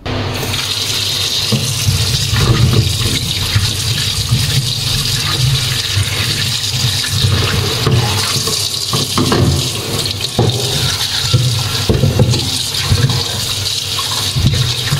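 Tap water gushes steadily into a sink as peeled carrots and potatoes are washed, a loud, continuous splashing rush with small shifts as the vegetables are moved under the stream.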